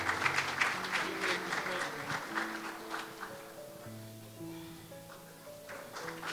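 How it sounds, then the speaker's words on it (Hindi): Wedding guests applaud after the cake cutting at a Christian wedding service, steady moderate clapping that gradually softens, with music notes sounding underneath. "जोरदार तालियां।"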